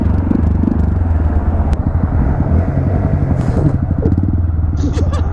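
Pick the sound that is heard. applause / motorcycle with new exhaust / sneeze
motorcycle with new exhaust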